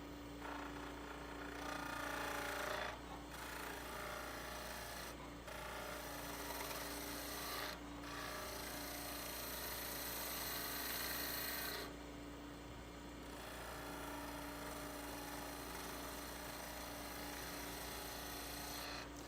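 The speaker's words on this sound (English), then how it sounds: "I have my angle at about 45 degrees, and we're just going to take some small planing cuts here." Mesquite lidded box spinning on a woodturning lathe as a tool makes small planing cuts with its bevel at about 45 degrees, giving a sustained close rasping scrape broken by a few short pauses.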